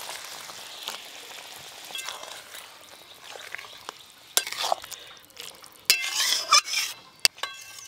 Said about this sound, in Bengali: এবার ভেজে রাখা ভেন্ডিগুলো দিয়ে দেবো।